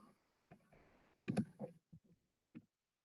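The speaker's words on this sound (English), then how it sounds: "I'm just typing a message here so that people will know" Someone typing a message on a computer keyboard: a sparse run of separate clicks and taps, close and fairly quiet, with short pauses between keystrokes and no talking.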